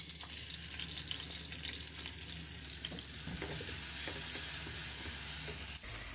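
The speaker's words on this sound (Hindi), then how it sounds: "इसको हम गोल्डन होने तक फ्राई करेंगे।" Finely chopped onions frying in a few spoonfuls of ghee, a steady, dense sizzle running throughout with occasional stirring scrapes, close and fairly loud, no voices.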